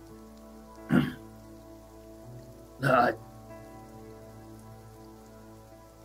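Rain falls as an ambient effect in a fantasy tabletop role-play, a soft continuous patter under a sustained tonal backdrop. Two short spoken bursts cut through.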